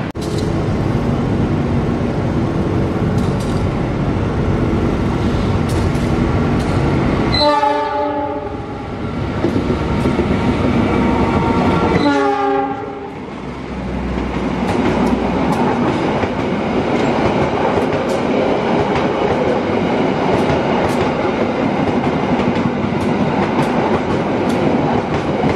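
A passing Kaligung passenger train rumbles loudly throughout, with two long horn blasts sounding in the middle, a few seconds apart.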